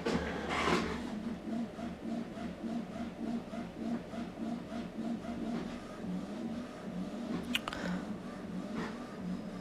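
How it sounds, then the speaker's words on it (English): A printer prints a test page, with soft rhythmic mechanical whirring and repeated paper-feed clicks close by, plus a brief sharper clack partway through. "as you can hear, my printer is printing a test document"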